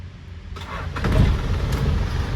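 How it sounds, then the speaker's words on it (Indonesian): A Toyota Land Cruiser FJ40 hardtop with a swapped 14B diesel engine cranks and fires up, then settles into a rough, rumbling idle close by, brief and alone without voices. "Sekali starter langsung nyala. Nah, ini untuk suara mesinnya. Mesinnya 14B."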